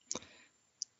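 Two quick mouse clicks land close together, followed by a single lone click a moment later, crisp and near in an otherwise quiet room.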